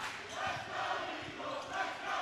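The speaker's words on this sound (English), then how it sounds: "And you can hear the crowd electrifying this offense" Steady roaring cheers from a college basketball crowd at a West Coast Eagles versus Caltech game fill the space, a continuous dense wash of voices with mild swells throughout.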